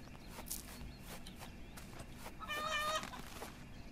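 A chicken clucks in the farming video game Witch of Fern Island, a short burst of clucks near the middle, heard over steady game ambience and music.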